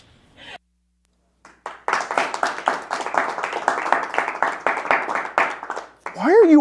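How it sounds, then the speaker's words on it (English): An audience at a live comedy show breaks into steady rhythmic clapping that lasts several seconds after a short silence, followed by a person starting to speak. "Why are you all clapping?"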